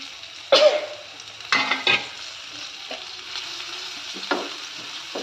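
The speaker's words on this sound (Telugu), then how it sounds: "ఆయిల్ హీట్ అయిపోయిన తర్వాత మనం చిన్నగా కట్ చేసుకున్న ఆనియన్ని ఇందులోకి యాడ్ చేసుకోవాలి" Chopped onions sizzle in hot oil in a pan for a Hyderabadi cashew paneer curry, a steady frying hiss punctuated by several sharp stirring scrapes and clatters.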